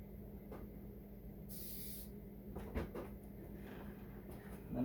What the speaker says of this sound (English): I'm just spraying the glue on the back,